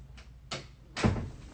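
A few soft wooden knocks of a door closing in a room, ending in one firmer thud near the end, quiet and close with no talk.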